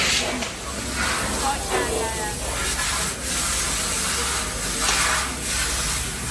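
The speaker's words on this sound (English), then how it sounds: "these are all wet spray on a pressurised tank that literally just does the metallic paint on every stove" Steady hiss of a pressurised spray gun applying metallic paint to stoves in a stove factory, in pulses, with people talking quietly underneath amid background machinery noise.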